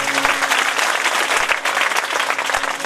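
An audience at a Hindu devotional gathering for Hanuman applauds a donor, a loud, dense burst of clapping that fills the whole moment with no talk.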